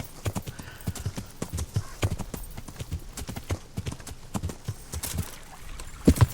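Steady clip-clop of horse hooves trotting at an even rhythm in the video game Kingdom Come: Deliverance, fairly close, with a brief snort or whinny near the end.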